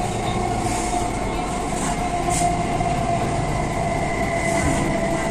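Kolkata metro train with BEML-built coaches running underground between Salt Lake Sector V and Sealdah, a loud steady rumble of wheels and motors with a sustained high whine and faint rail squeals, heard from inside the carriage.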